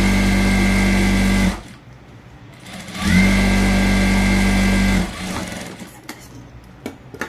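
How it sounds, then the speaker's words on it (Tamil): Sewing machine stitching the lower hem of a plain unlined blouse: two steady buzzing runs of about one and a half and two seconds, separated by a pause, followed by quieter handling clicks. "நான் கீழேயும் ஒரு தையல் போட்டுக்கிறேன்"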